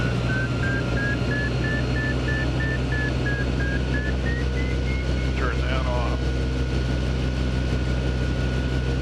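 A motor glider engine drones steadily in level flight, a loud constant low hum filling the cabin, with a brief rising tone and a short click partway through.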